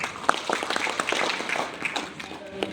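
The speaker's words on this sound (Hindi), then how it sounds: "दोनों तालियां इनके लिए।" Audience applause rising during a talk on women's empowerment, a short burst of scattered hand claps from a modest crowd, moderately loud and close, with a voice speaking over it.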